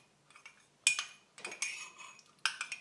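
Yoghurt starter culture stirred into soy milk with a spoon, giving close clinks and scrapes against the container in irregular bursts, quiet in between, with no voices.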